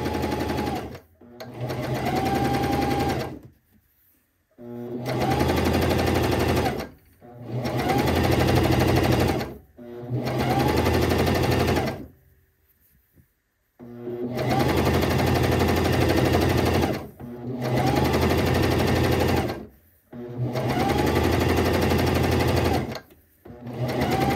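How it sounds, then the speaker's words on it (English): Close, loud sewing machine stitching fabric in repeated bursts of rapid mechanical chatter, each lasting a few seconds, separated by short pauses with one longer gap midway. "we're just going to put things down and start sewing"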